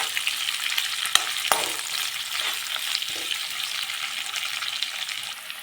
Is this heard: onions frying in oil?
yes